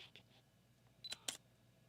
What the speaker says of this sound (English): I don't like how the shutter sounds.